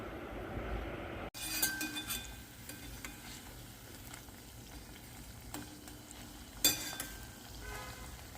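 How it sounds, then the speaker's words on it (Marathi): Chakli frying in hot oil, a steady close sizzle and bubbling hiss punctuated by a couple of sharp clinks of a utensil, with no talking. "आता आपण तळून घेऊ"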